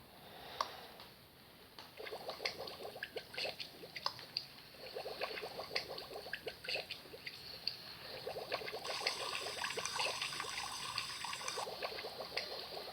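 Water is poured and trickles steadily during a bath, splashing in uneven bursts at close range, faint and continuous with no voices.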